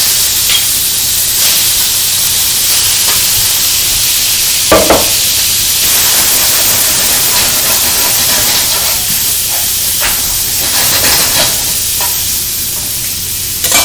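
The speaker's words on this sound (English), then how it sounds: "So in a very hot wok, you're going to add your beef." Beef hitting a very hot wok for a stir fry gives a loud, steady hiss and sizzle that fills the whole stretch, with a few sharper bursts and clatters of stirring.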